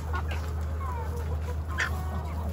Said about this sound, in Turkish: Köy horozları. Şurada Hint horozumuz var.